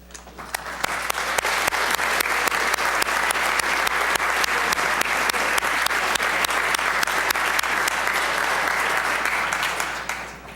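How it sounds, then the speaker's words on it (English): Sustained, dense applause fills the Virginia House chamber as members honor economic development board members, a loud even wash of many hands that swells quickly and tapers off near the end. "we can give them a warm round of applause"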